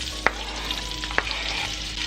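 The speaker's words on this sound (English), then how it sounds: "Now add the onions." Onions frying in about three tablespoons of oil over medium heat, giving a steady close sizzle with two sharp stirring clicks from a utensil in the pan, and no talking.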